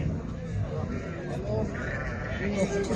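Sheep bleat amid the bustle of a livestock market selling sheep, goats and cattle, with a ewe and her lamb nearby. Wavering calls sound under steady crowd murmur and people talking.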